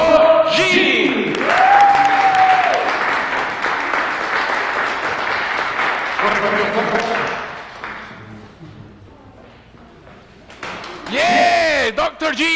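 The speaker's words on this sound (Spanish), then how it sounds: "Así que conmigo denme un aplauso para recibir al profesor Dr. G." Church congregation applause during a Sunday service, sustained clapping and crowd noise lasting several seconds, with a voice talking over it at the start and end.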